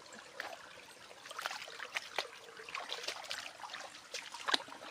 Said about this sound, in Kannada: ಈಗ ಕೆರೆ ಹತ್ರ ಬಂದ ಸಣ್ಣ ಹಳ್ಳ ಅಲ್ಲಿಂದನೇ ಬರ್ತಾ ಇದ್ದದ್ದು ನೀರು